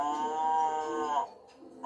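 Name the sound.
cow mooing, sound from a toy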